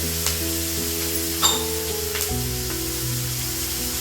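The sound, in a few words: tomatoes sautéing in pan for country chicken chukka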